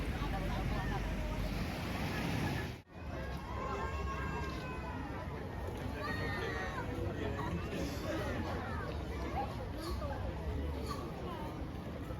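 Waves break and wash on Pulau Kapuk beach at Lhoknga, Aceh, in a steady surf roar mixed with wind buffeting the microphone, while a voice speaks over it and a crowd murmurs faintly in the distance.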